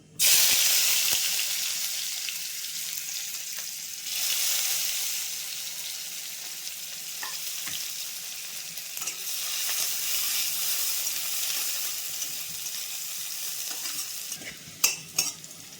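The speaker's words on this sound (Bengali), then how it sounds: "কড়াই গরম হয়ে গেছে, ফোড়ন আমার রেডি। এই কুচনো পেঁয়াজটা দিয়ে দিচ্ছি।" Chopped onion hits a hot wok of oil tempered with whole cumin for a spinach bharta, bursting into a loud sizzle that settles into steady frying with intermittent stirring scrapes and spatula knocks.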